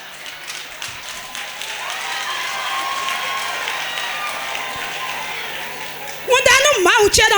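A church congregation applauds in a sustained wash of clapping under tonal music or singing, fading out before a voice starts talking at the end.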